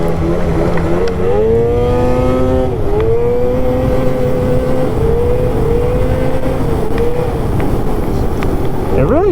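An Arctic Cat Catalyst 858 snowmobile engine drones steadily while riding through slush, its pitch rising and falling with throttle changes, loud and continuous, with someone talking over it.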